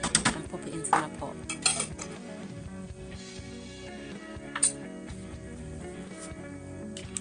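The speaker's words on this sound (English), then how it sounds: "Take about a tablespoon of coconut oil and pop it into my pot." A metal spoon scrapes and clinks against a cooking pot while coconut oil is scooped in for a butter bean and carrot dish, giving scattered soft knocks and scraping over a low kitchen background.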